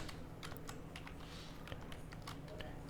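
HTML code being typed on a computer keyboard, with faint, quick key taps set against a noisy, humming room background.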